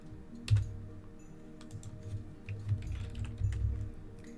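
Keys on a computer keyboard are struck in quiet, irregular bursts, with a few louder taps standing out against soft background hum.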